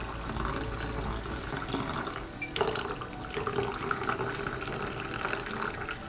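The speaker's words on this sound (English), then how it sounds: "take our water from the cinnamon sticks and we're going to pour that into our blender." Cooled water from steeped cinnamon sticks poured into a blender, a steady splashing stream running continuously at close range, with no one talking.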